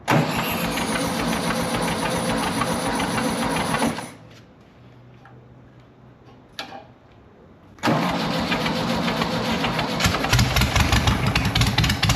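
A VW dune buggy engine runs loud and rough up close, then cuts out to near silence for about four seconds with a brief click, before firing back up and revving strongly, with no talk.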